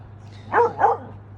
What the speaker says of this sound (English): stop barking, stop it, stop.